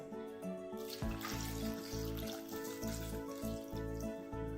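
Water runs steadily from a tap over salted mandeli fish, splashing and trickling continuously at close range with a few brief dips in flow.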